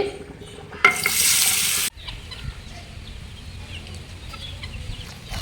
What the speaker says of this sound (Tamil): நண்டு வறுத்துக்கலாம். ஆயில் சூடாயிடுச்சு.